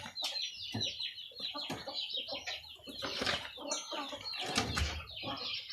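Chickens clucking in a rural backyard pen in Thailand: busy, overlapping clucks and squawks with occasional wing flapping, close and fairly steady throughout, with no speech.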